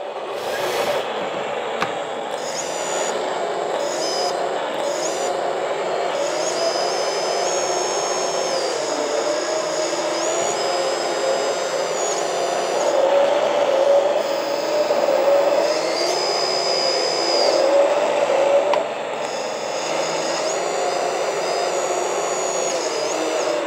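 A continuous simulated excavator engine drone from a sound module on a DoubleE three-arm model excavator, with a whirring, motor-like tone running steadily throughout, faint high whines and clicks, no voices.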